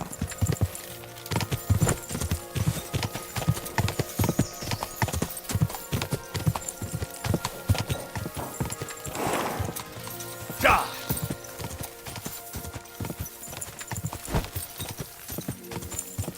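Horse hooves clip-clop in steady rhythm on a path in the medieval video game Kingdom Come Deliverance 2, close and continuous, with a brief whinny midway and quiet ambient sound around it.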